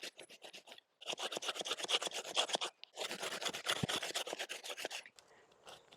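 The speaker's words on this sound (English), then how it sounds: "I'm going to give it a go with my little handsaw" A small handsaw cuts through an olive tree branch in fast, even back-and-forth strokes, close and loud, with a short pause between two long bursts and no talking.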